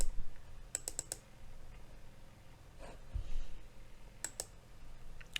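A few sharp computer mouse clicks while working through software menus, a quick double pair early and another pair near the end, close and fairly crisp over quiet room tone with soft breathing.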